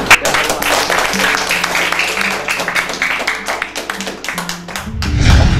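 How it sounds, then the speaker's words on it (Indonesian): A crowd applauds with steady clapping over background talk on an Indonesian school TV program, the sound continuing for several seconds before a louder rumble at the end. "Kita beri tepuk tangan ke Pak Zaini."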